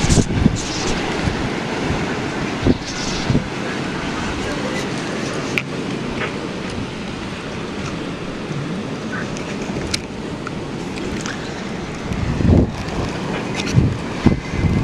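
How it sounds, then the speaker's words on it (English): Strong, gusty wind whipping through a snowy Buffalo street during a blizzard, a steady roar buffeting the microphone with louder bursts near the end. "the wind is still just as strong. It's whipping."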